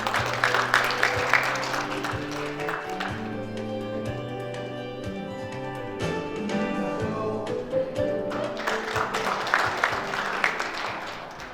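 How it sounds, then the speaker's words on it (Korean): An audience at a forum breakfast lecture applauds the chairman of the Chungbuk economic forum, with steady, sustained clapping throughout that swells again near the end, alongside background music. "우리 차태한 충북포럼 회장님 박수 한번 부탁드리겠습니다"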